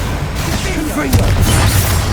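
A Confringo blasting spell going off in the Hogwarts Legacy video game, a deep booming explosion that swells partway through and rumbles on to the end over a dense background of game sound.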